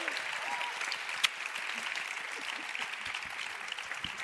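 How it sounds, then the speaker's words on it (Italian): At an international dubbing awards gala, an audience applauds voice actress Emanuela Rossi with continuous, even clapping from many hands, fairly soft and distant, with one sharp louder clap standing out near the start. "Un applauso."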